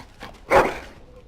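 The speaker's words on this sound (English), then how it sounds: "Bloody dog." A dog in Dragon Age: Origins gives a single short whimpering yelp, moderately loud, over faint background game ambience.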